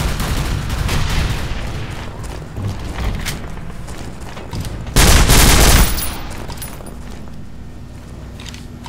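Sustained gunfire from the shooter game Nuclear Dawn, a continuous crackling fusillade across the whole stretch, swelling to a loud, dense close-range burst midway before settling back into steady background shooting.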